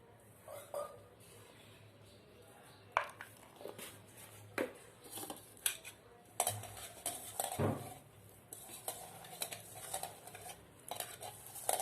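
Coconut curd raita with green chillies and onions is mixed by hand in a bowl, giving irregular soft stirring and scraping with occasional sharp spoon clinks against the dish, close and fairly quiet.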